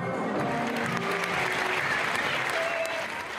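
Thunderous audience applause under the big top of the Gruss circus in Paris, a dense, steady wash of many hands clapping at once, loud and sustained throughout, with faint voices mixed into the crowd.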